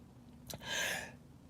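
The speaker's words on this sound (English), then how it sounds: "I'm gonna sneeze." A single quick human sneeze, a short breathy burst preceded by a small intake, heard close and alone in an otherwise quiet room.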